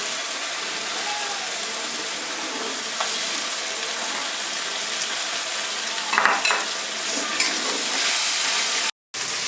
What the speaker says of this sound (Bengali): এবার দিয়ে দিচ্ছি একটু লঙ্কা বাটা আর দেব জিরে বাটা